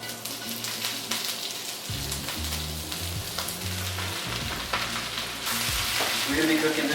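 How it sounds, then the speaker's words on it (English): Cabbage frying in sesame oil in a pan over high heat gives a close, steady sizzle, with stirring clatter and a louder surge of hissing near the end. "We're gonna cook down the cabbage until it's like slightly wilted."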